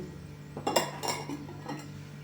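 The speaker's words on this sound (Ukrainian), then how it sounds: "Добре, все розмішую щоб цукор і сіль розчинилися" A spoon stirs sugar and salt into brine in a pot, with a few soft clinks and scrapes against the sides, quiet and close.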